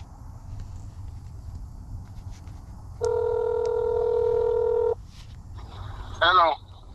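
A telephone number is keyed in on a phone, a steady multi-tone dialing burst lasting about two seconds, followed by a short chirping ring-like tone, with faint room noise between.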